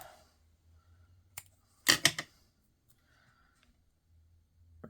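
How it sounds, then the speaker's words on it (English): Scissors cut small lengths from a paper strip at a crafting table, giving a few sharp snips: one light cut, a close pair of louder crisp cuts and a faint final snip amid quiet. "I'm going to cut me some little lengths"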